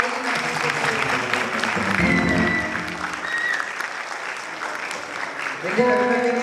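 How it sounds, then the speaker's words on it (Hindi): An audience claps at a white cane safety day program held by a centre for the blind, and the sustained clapping blends into a dense wash mixed with voices and other sound. "भरपूर क्लैपिंग कीजिए"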